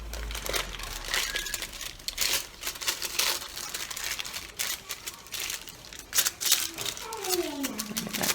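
Thin foil crinkles and rustles up close while it is folded and pressed against hair during a blonde highlighting session, in dense crackly bursts with a brief soft voice underneath.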